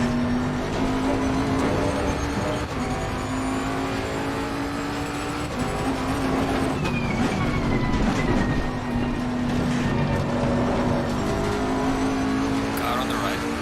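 Formula 1 race car engines in a racing game, a steady high-pitched engine drone with rising and falling pitch as the car accelerates, continuous throughout with a voice talking over it.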